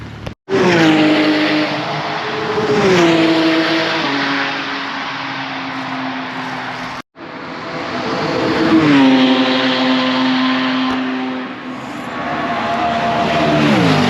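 Supercars including a Porsche GT3 RS, Lamborghini Huracán and track-spec BMWs run flat out on the Nürburgring straights during a track day, loud engines rising and falling through gear shifts in two long continuous passes with a brief gap between.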